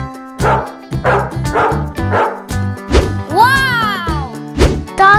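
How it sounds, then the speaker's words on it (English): A dog gives a rapid run of loud, close barks and yips, breaking into a rising whimpering howl midway before more sharp barks, all over cartoon music. "Dog."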